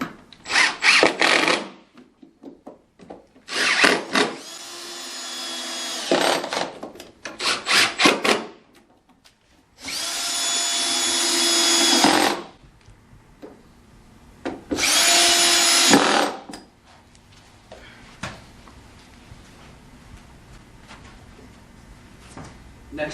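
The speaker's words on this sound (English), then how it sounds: "Easy to run these screws all the way through the panel," A power drill drives screws through a desk wall bed panel in several loud whirring bursts of a few seconds each, separated by pauses with faint handling knocks, up close.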